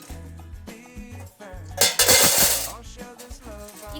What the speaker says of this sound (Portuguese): Nós vamos pegar essas pedrinhas e colocar dentro dessa lata.